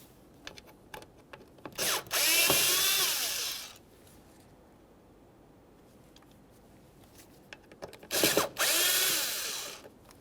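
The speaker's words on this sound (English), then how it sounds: "Continue on to removing each of your Phillips head screws holding this in place." Power drill backing out Phillips head screws from the mass air flow sensor on a 2006-2012 Ford Fusion 3.0L V6, two separate whirring bursts of about two seconds each, close and loud, with faint clicks and handling noises between.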